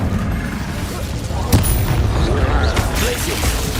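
A fire spell cast in Hogwarts Legacy: a loud whooshing, roaring burst with a sharp impact partway through, layered over dense game sound, with a voice speaking over it.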